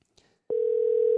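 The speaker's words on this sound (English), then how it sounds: "Oh, it's ringing." A steady electronic telephone tone sounds continuously after a brief soft click, loud and unbroken, like a call connecting.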